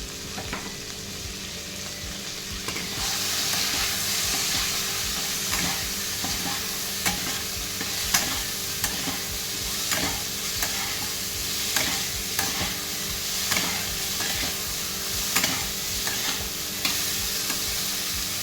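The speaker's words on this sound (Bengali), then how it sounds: "ফুলকপিগুলো আবার লাল লাল করে ভাজা হয়ে গেছে" Cauliflower florets with a little turmeric and salt sizzle in hot oil in a pan, with a steady frying hiss and regular scraping stirs of a spatula throughout.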